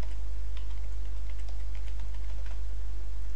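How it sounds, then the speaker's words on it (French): Keys tapped on a computer keyboard while a password is entered, a quick run of light clicks over a constant low hum. "Donc je tape en mot de passe."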